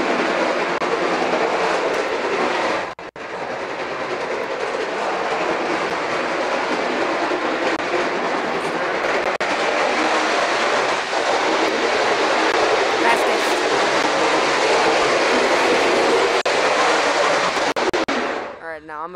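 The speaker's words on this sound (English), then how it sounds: "it's basically a model train thing" Continuous loud rattling rumble of a remotely controlled model train running along track, a brief dip early on, with a voice talking over it.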